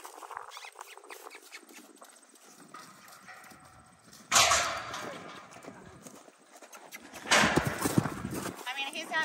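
A horse cantering in a riding session, its hooves clip-clopping steadily at close range with louder bursts of footfall, while a rider talks over it.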